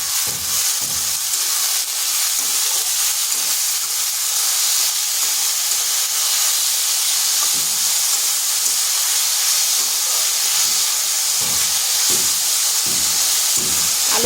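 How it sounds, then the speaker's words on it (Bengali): Potatoes with green chillies and salt frying in a pan, giving a steady loud sizzle and hiss with occasional stirring scrapes throughout. "আলুগুলোকে হালকা ভাজা ভাজা করে নিচ্ছি।"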